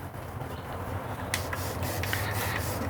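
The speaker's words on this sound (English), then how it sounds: "I fold my dirty rag in half, and I just run it through the brake just to get anything off of there" A folded rag is pulled back and forth through a bicycle brake, making a close, continuous rough rubbing and scraping with a few brief sharper scuffs, with no talking.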